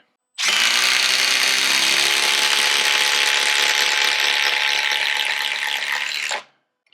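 A 12-volt impact driver, Milwaukee Fuel Gen 3 or DeWalt 12V Xtreme, drives a 5-inch timber lock screw into wood in one loud, continuous burst of rapid hammering that lasts about six seconds and then stops abruptly.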